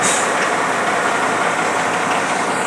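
A small tractor idles close by with a loud, steady diesel rumble that holds unchanged for the whole stretch, no voices over it.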